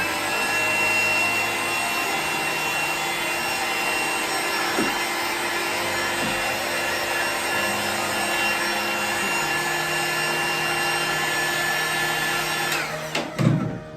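A Glenpak SKA450 or SKA600 shrink-wrapping heat gun blows a steady, loud roaring hiss as it shrinks plastic film, continuous for most of the stretch before a brief clatter of handling near the end, with no talk.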